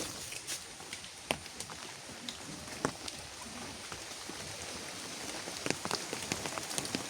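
Steady rain pattering on a surface near rice paddies, with scattered sharper drips and taps throughout, fairly quiet and continuous.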